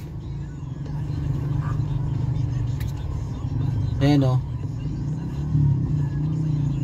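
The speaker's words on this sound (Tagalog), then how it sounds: "Grabe talaga ang traffic." Heavy road traffic on Puti Road in Las Piñas, a steady low rumble of car engines close by, with passing vehicles swelling now and then and someone speaking briefly over it.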